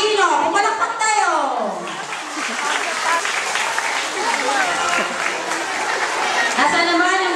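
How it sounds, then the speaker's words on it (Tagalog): A crowd at a school Buwan ng Wika program applauds for the preschoolers, with clapping over audible chatter and laughter, and talk heard within it. "Pumalakpak tayo."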